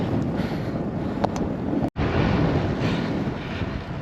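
Strong wind buffets the microphone on a solo ride along a mountain road, a steady loud rumbling roar with one brief dropout partway through.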